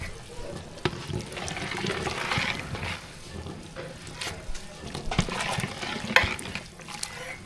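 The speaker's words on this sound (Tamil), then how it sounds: "பிரியாணி வந்து அரிசியும் கறியும் சேர்த்து நல்லா கொதிச்சு வந்துட்டுருக்கு பாருங்க" Chicken biryani, rice and meat together, boils in a pot with a soft, continuous bubbling and simmering close by, broken by occasional light clinks and stirring sounds.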